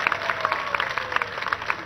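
A studio audience claps steadily, a dense crowd applause with even patter and no pause for the whole short stretch.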